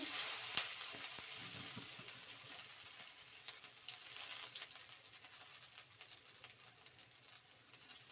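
Cumin seeds sputter in hot oil with a soft, continuous crackling fry scattered with small pops and sharper snaps, quiet and close with no talking.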